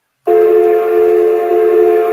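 A person whistles one long, steady, loud note like a train whistle, held for about two seconds with a sharp start and rich harmonics, alone and close.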